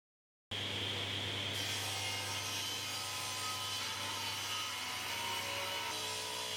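Power tool machining the second half of a timber joint for a wood-frame house window, a steady, loud, continuous cutting whir on wood with no pauses, close up and without talk.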